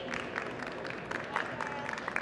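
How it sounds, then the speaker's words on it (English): An audience at a design trade show applauds a speaker, giving steady, moderately distant clapping that stays even throughout with no talk over it. "Let's give her a big round of applause."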